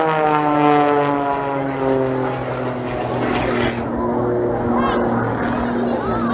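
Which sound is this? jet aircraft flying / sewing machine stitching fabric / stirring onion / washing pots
jet aircraft flying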